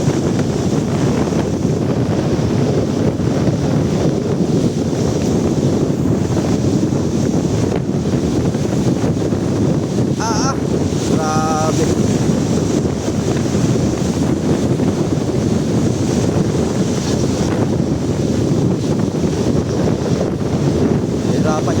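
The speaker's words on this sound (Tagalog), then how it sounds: "Pero yung alon, kayang-kayang alon." Strong wind buffeting the microphone and 5 ft waves surging around a small boat at sea, a steady loud roaring rush throughout with brief water slaps, voices faintly heard under it.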